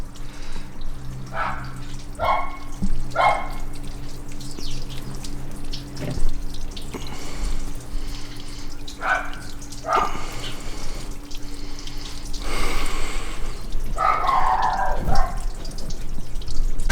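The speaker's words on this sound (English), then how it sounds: "Flushing the water out the engine a little bit." Running water gushes and splashes in bursts from a Renault Megane Mk1 1.4 engine being flushed out during a heater fix, with a steady mechanical hum underneath and a louder surge of water near the end.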